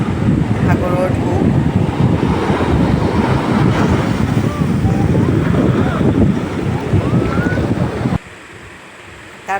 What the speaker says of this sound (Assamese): সাগৰৰ ঢৌ।